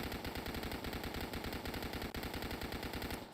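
Gut Stitcher submachine gun in the video game Dead Frontier fires in a long, rapid, evenly paced burst, loud and close, with one momentary break near the middle and no talk.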